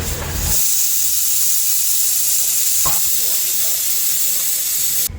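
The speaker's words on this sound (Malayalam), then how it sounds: "കുക്കറിലിട്ട് വേവിക്കുന്നുണ്ട് കേട്ടോ" Steady hiss of pressure cooker steam as tapioca boils, a broad even rush throughout with a brief clatter near the middle.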